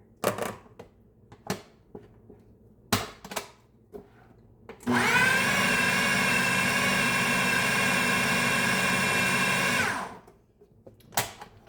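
A blender starts up and runs loudly for about five seconds, mixing ingredients with a steady high whirring whine, then cuts off, framed by scattered clunks and knocks before and after.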